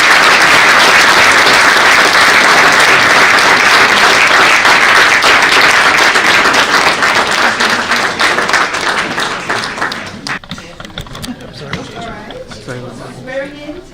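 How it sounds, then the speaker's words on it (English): An audience at an inauguration ceremony for a county comptroller breaks into loud, dense applause. The clapping thins out and fades after about ten seconds, and voices follow. "And give a rousing applause to Nassau County Comptroller Jack Schnirman, his wife Joni"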